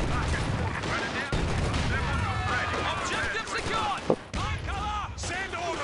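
Battle sounds in Company of Heroes 2, with rapid, overlapping gunfire and sharp reports from an ISG infantry gun firing directly, dense and loud throughout, and someone talking over it.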